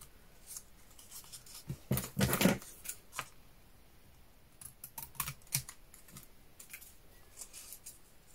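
Scissors cut paper for a scrapbooking suitcase box, sharp close crisp snips in short irregular bursts, with one louder rustling cut early and scattered lighter clicks and paper handling afterward.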